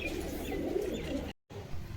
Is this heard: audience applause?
no